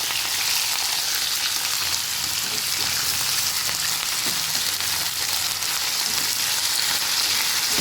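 Potatoes, eggplant and leafy greens sizzle steadily in a hot pan of oil, a loud, dense, continuous frying hiss with faint stirring and no voices.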